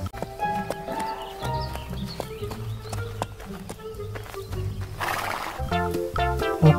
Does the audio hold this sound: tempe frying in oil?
no